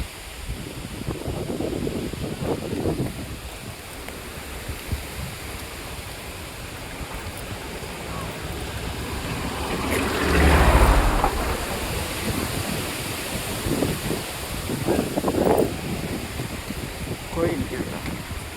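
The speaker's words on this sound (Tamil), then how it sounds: "காற்று பாருங்க எப்படி காற்று அடிக்குதுன்னு." Steady wind blows across the microphone with a gusting roar and buffeting, rising to a stronger rush midway; faint voices sit underneath.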